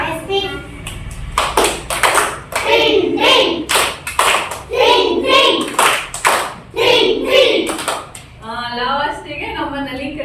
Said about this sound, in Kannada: ಪ್ರಿಂಟ್ ಪ್ರಿಂಟ್ ಚಪ್ಪಾಳೆ ಓಕೆನಾ